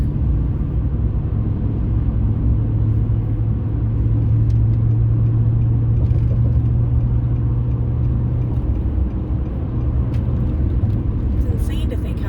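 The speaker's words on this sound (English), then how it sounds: "Oh, the traffic is crazy today." Steady road traffic rumbles from inside a moving car on a busy road trip, a constant low engine and tyre drone throughout with faint higher noises near the end.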